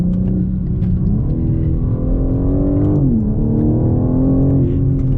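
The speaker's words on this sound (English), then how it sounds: "we've got more induction noise coming from the engine" A 2021 BMW M4 Competition engine growls steadily with a deep, loud induction roar, pitch rising and dipping briefly mid-way as it revs under load.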